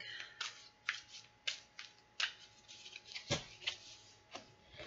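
Cards are shuffled for an energy reading, a run of close, crisp riffling bursts repeating roughly every half second with no talk over them.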